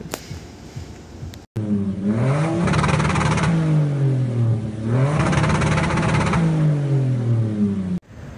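A 2007 Alfa Romeo Brera V6 revs up loudly and close, climbing in two long rising sweeps with a steady throaty drone between them, then cuts off abruptly.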